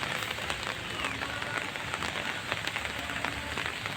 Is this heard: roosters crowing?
no